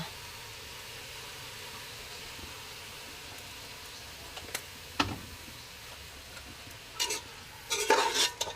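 Pork meat sautéing in a pan for Filipino sinigang, a faint steady sizzle with a few scraping stirs of the spoon toward the end.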